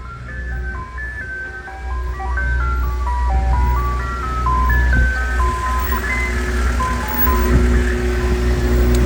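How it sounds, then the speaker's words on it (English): An ice cream truck plays its tinny, looping electronic jingle, a bright stepwise melody repeating loudly and close over a low idling engine rumble, with no voices. "The ice cream truck?"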